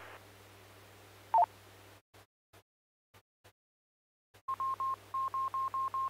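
Amateur radio net: radio hiss cut by dropouts, then a run of short, evenly spaced electronic tone beeps coming through the static.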